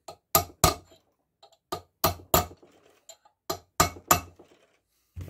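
Metal key being tapped into the crankshaft of a 1953 NSU Konsul 500 cc engine, a series of sharp, bright metallic clinks in small clusters separated by brief silences, close and clear.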